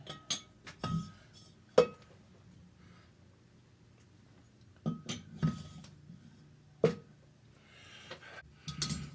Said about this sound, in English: Next, slide the valves in the head.